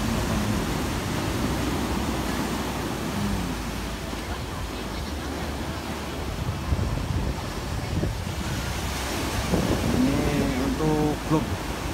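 Ocean waves at Las Canteras beach in Gran Canaria make a steady wash of surf mixed with heavy wind buffeting the microphone, with faint voices briefly audible near the end.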